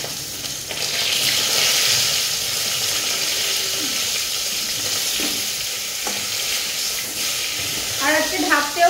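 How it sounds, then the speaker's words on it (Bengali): Fish heads sizzle and crackle in hot oil in a home kitchen pan, a steady dense hiss with scattered pops lasting throughout and a brief clatter near the end. "তেল অলরেডি গরম হয়ে গেছে, মাছের মাথাগুলো দিয়ে দিই।"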